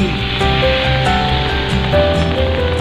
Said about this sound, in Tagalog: Umuulan mga katiting.